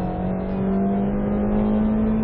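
A Honda Mobilio engine gives a loud, steady droning buzz after a downshift at around 4,000 rpm, holding a firm tone with a slight rise in level and heard alone.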